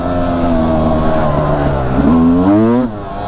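Sherco 300 SE Factory Edition two-stroke dirt bike ripping through a berm, its engine loud and close, revving continuously and rising in pitch toward the end before easing off.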